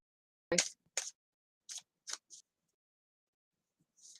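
Tarot cards being shuffled give a handful of sharp, separate snaps and taps spaced irregularly over a few seconds, with silence in between.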